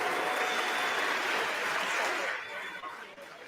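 A crowd in the House chamber claps steadily in dense applause that fades off toward the end.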